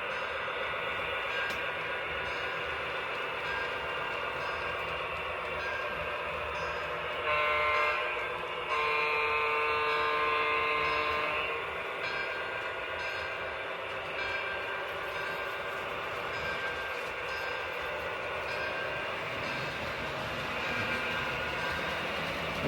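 A model train on a layout hums and clatters steadily along its track, with a brief brighter whistle-like tone rising midway before the rolling continues.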